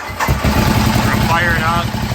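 Ducati Diavel with a Testastretta engine cranking and catching, a brief starter whir rising into a loud, rough engine note close by, with someone talking over it.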